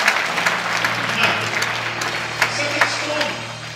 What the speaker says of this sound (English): Clap your hands, all you people,